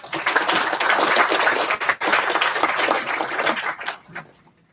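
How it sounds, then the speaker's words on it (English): Audience applause welcoming dignitaries at an information security workshop, dense hand clapping that stays strong, briefly dips midway, then tapers off into quiet. "Let's just welcome all the dignitaries with a huge round of applause, please."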